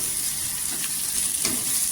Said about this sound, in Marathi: आता इथे सुके मसाले टाकलेले आहे, तेलावर परतून घेतलेला आहे